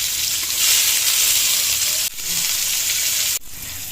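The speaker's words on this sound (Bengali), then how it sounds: "এখন পেঁয়াজ কুচি দিয়ে দিচ্ছি।" Chopped onion frying in a pan for fried rice gives a steady, close sizzle and hiss that runs continuously, broken by two brief cuts, with no talking.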